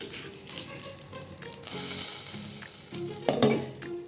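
Dried red chillies crackle and sizzle in hot oil, tempering a coconut curry of jackfruit seeds, mango and drumsticks. The frying swells partway through, with stirring clatter and spits on top and no voices.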